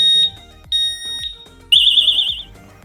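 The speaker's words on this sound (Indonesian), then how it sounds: "tadi alarmnya bunyi terus ini" Loud electronic alarm beeps in short bursts from a motorcycle disc lock, then a rapid warbling siren tone, with clattering handling noises underneath.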